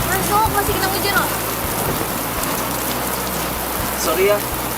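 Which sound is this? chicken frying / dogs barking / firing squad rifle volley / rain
rain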